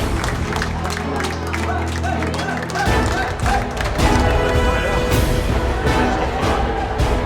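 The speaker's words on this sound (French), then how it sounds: "Accueillis par un tonnerre d'applaudissements" Thunderous applause in a dining hall at a culinary competition as plates are carried out to the jury: loud, sustained clapping from many people with sharp individual claps, under a steady low hum and background bustle.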